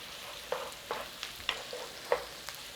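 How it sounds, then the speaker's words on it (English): Onions, garlic and a pinch of thyme sauté in butter and leftover oil for a Guinness shepherd's pie, a soft steady sizzle with several distinct stirring scrapes spaced every half second or so. "a little saute on the onions and the garlic, lose that rawness"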